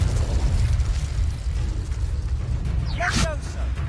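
The Incendio fire spell from Hogwarts Legacy, a brief whooshing burst over a loud, rumbling game backdrop of combat noise.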